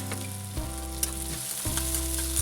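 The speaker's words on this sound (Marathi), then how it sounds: "हे बारीक चिरलेले ते दोन कांदे मस्त तेलावरती भाजून घ्यायचे" Finely chopped onions fry in oil for vada pav filling, a close, steady sizzle with a low hum underneath and a couple of small clicks.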